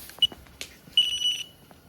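An electrical current detector beeping beside a phone during work on a Nissan 350Z engine, one short sharp beep followed a moment later by a longer beep and then another short one, close and clear.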